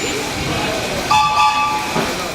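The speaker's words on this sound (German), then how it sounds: "Signalhorn und Antwortpfiff des Lokführers haben sich bis heute für den Betriebsablauf bewährt." Signal horn of the electric narrow-gauge Sóller railway train on Mallorca, a loud close toot over rumbling running noise with voices present.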